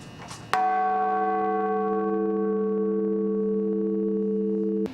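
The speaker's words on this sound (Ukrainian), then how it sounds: "новинам все таки пощастило почути звучання майже 700-літнього дзвону" A single deep strike of a nearly 700-year-old church bell rings out and hums on with a long, steady, sustained tone.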